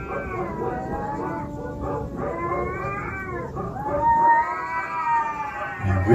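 A cat in Nepal caterwauls in long, wavering, rising and falling yowls over several seconds, fairly close, with a louder stretch toward the end and faint background noise.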